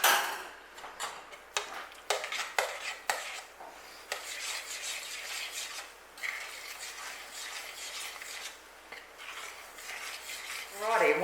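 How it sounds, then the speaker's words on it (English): A spoon stirs bicarb soda into a simmering pumpkin fruit cake mixture in a pot, with steady close scraping and clinking against the pan and a few sharper knocks early on. "we want to add 1 teaspoon of bicarb soda and we want to mix that through"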